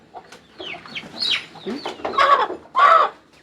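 Several chickens cluck and squawk in a busy, irregular run of short calls, fairly close, with a couple of louder bursts near the end.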